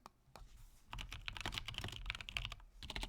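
Quiet, rapid typing on a computer keyboard, a dense patter of small clicks that picks up after a faint start and runs steadily, close and alone.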